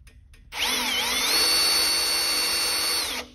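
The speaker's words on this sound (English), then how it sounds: "got my drill set on the fast setting now" An electric drill on its fast setting whirs up to a high, steady whine, holds for a few seconds with a slight wavering pitch, then winds down.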